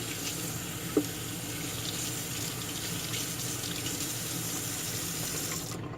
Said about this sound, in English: You can also rinse them in hot water.